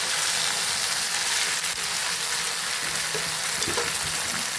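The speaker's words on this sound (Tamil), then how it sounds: "பிரண்டையை சேர்த்து நல்லா வதக்கிக்கணும்." Pirandai (adamant creeper) sautés with already fried onions in a pan for a chutney, giving a dense, close sizzle and hiss with light stirring knocks throughout.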